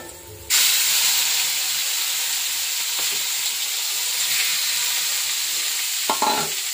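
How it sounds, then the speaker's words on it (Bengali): Sliced bitter gourd, salted ahead of time, hits hot oil in a pan with a sudden loud sizzle that settles into a steady, bright frying hiss with faint stirring clicks. "দিয়ে দেবো এখন উচ্ছেটা"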